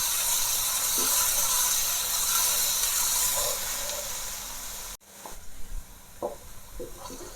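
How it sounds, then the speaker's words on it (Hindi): Ginger garlic paste hisses and sizzles loudly in hot oil with browned onions, a dense frying crackle that cuts off abruptly and gives way to quieter sizzling with a few stirring knocks. "अब मैं इसमें अदरक लहसुन का पेस्ट ऐड कर दूंगी। इसको भी हम 1 मिनट के लिए फ्राई कर लेंगे।"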